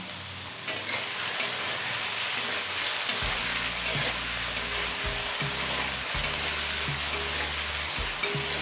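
Potatoes and slit green chillies fry in oil for ghugni, a steady bright sizzle with repeated scraping stirs and occasional clinks of a spatula against the pan.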